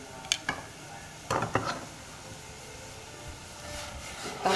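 A utensil scrapes and clinks against a pot in a few irregular strokes while stirring a Thai curry with rice, with a low sizzle or hiss running underneath.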